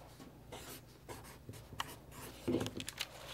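A Papermate 2020 bold-lined pen writes on paper, making soft, close scratching and rubbing strokes in uneven bursts, quiet and alone with no talk.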